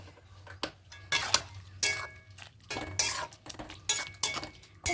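A utensil scrapes and clinks in a pan as spinach chicken curry is stirred and mixed, with repeated irregular strokes, close and moderately loud.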